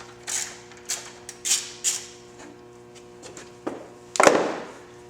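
Bolts loosened with a ratchet while removing the front fork of a motorcycle for front air ride installation, several short separate metallic clicks and taps, then a louder clunk and rattle near the end, close by with a faint hum beneath.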